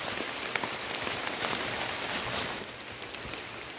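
Steady rain falls through dense mountain forest on Mount Tanggamus, a close, even hiss of drops hitting leaves and surfaces that eases slightly near the end, with no voices.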